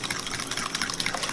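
Hot water pours into a cooking mix of sugar, salt and oil, making a continuous splashing gush that runs steadily throughout with no voices.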